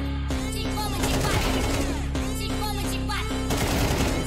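Rapid bursts of automatic gunfire in Counter-Strike 2 rattle continuously over a busy game soundtrack, loud and dense, with brief pauses between volleys.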